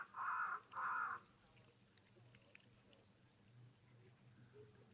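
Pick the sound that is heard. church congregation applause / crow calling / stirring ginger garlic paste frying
crow calling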